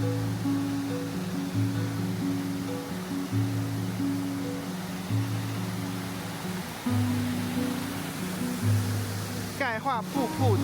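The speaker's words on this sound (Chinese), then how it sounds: "然后有另外一个角度看这个瀑布" A travertine waterfall at Jiuzhaigou gives a constant, loud, broadband rush of falling water, with a voice and other tonal sounds running over it.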